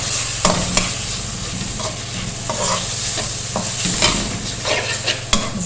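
Chopped onion sautés with cumin in oil for Punjabi kadhi pakora, a close, continuous sizzle broken by a series of sharp spoon scrapes and clacks against the pan as it is stirred, with no talking.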